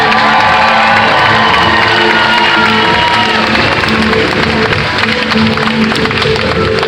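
A packed audience at a fairground hypnotist show cheers, whoops and applauds loudly and continuously, with shouting children and a dense roar of crowd noise filling the space throughout.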